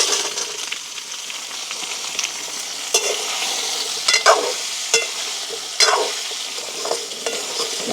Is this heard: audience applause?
no